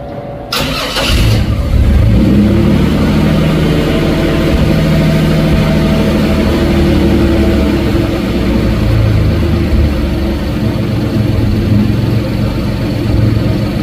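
A 1954 GMC cab-over truck fitted with Sniper fuel injection cranks briefly and catches, then settles into a steady, loud rumbling idle with slight rises in revs, heard up close with no talking.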